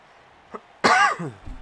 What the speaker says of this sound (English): I've got a bit of a cough, that's not good, is it?